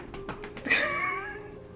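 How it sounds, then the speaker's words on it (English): A house cat gives a few short chirps followed by one longer, drawn-out meow, close and clear with nothing else around it. "Like kitty here."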